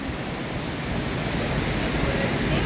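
Sea waves break along Versova beach in a loud, unbroken wash of surf that rushes close by, with a little wind buffeting the microphone and no voices.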